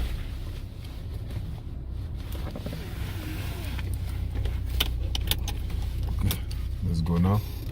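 2004 Chevrolet Trailblazer with an ABS module fault driving along, low steady engine and road rumble inside the cabin with jangling keys and clicks, a person talking over it.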